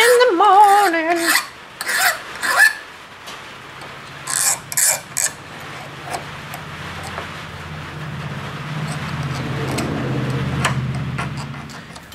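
Metal file rasping across a ring being shaped from a metal spoon, heard as a few short scraping strokes early on, then a steadier, quieter rubbing sound toward the end, with no speech.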